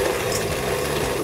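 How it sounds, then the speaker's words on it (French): Stand mixer beating almond paste to soften it, a steady continuous mechanical whir with a rattling grind running unchanged throughout, close and fairly loud, no voices. "Et on la met dans le batteur pour la ramollir."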